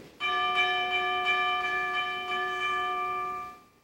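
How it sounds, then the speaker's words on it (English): A single warning bell rings out with a bright, sustained metallic tone for several seconds, slowly fading away at the end. "And then you're going to hear a warning bell."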